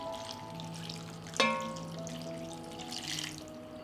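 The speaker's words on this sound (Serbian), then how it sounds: "I kupus ću preliti sa 500 ml vruće vode." Hot water, about half a litre, is poured from a container over layered cabbage and dried meat in a pot, a faint trickling splash with a sharp knock partway through, quiet and close.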